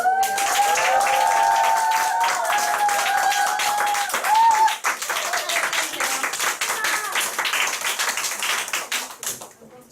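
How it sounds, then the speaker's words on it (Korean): Audience applause at a business group's monthly award ceremony, steady dense clapping filling the room for about ten seconds and fading at the end, with a voice speaking and calling over it. "박수."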